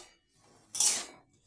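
A metal spatula scrapes and knocks once against a pan as potatoes and beans are stirred while frying, a brief clattering scrape after near silence.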